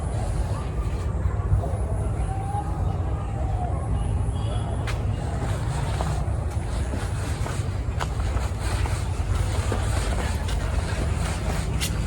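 A train passes through a disused rural railway station with a heavy, continuous low rumble and clatter that stays loud and steady. A voice speaks over it.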